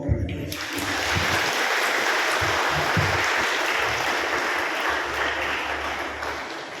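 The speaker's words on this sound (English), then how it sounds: "let us give the newly married couple a big round of applause" Wedding guests give a newly married couple a big round of applause, a loud, dense burst of clapping that starts sharply and continues steadily, with low murmurs beneath it.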